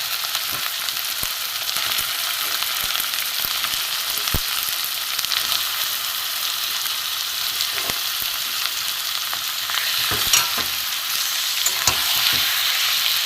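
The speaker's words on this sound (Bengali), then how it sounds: "ভালো করে ভাজবো" Chicken frying in a pan for panch phoron chicken, a loud, steady oil sizzle that runs unbroken throughout, with occasional faint stirring knocks under it.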